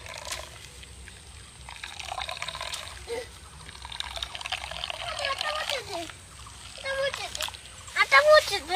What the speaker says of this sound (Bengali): একসাথে পুরোটাই দিয়ে এইভাবে ছেঁকে নেওয়া যাবে